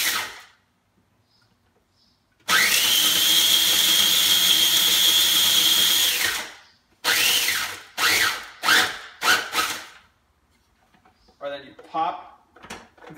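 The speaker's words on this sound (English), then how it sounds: "You put your peanuts in the grinder." Peanuts are ground in a small weed grinder: a long loud whirring burst, then several short choppy bursts and clatters, close by.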